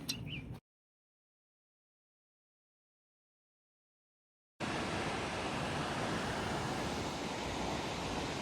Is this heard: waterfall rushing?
yes